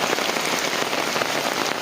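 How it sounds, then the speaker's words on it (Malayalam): Heavy rain pours steadily onto a surface at a farm where a buffalo is eating, a dense, even hiss of drops close by with no pauses and no voices. "നല്ല മഴയുണ്ട് കൊണ്ടിരിക്കുകയാണ്"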